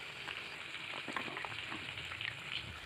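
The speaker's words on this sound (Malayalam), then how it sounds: "എണ്ണ ചൂടായി കഴിയുമ്പോൾ അതിനകത്തേക്ക് കടുകും കറിവേപ്പിലയും ഇട്ട് കൊടുക്കാം." Mustard seeds and curry leaves sizzle in hot oil in a pan for a Kerala-style mushroom curry, giving a steady, close crackling hiss with small pops throughout.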